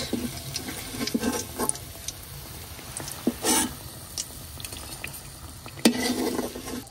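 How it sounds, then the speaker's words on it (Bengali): Cauliflower pakoras frying in hot oil, with a steady, fairly quiet sizzle and bubbling, broken by a few louder splashes and stirring clatters near and far. "এগুলো শেষ পাকুড়া ছিল, এটিও ভাজা শেষ।"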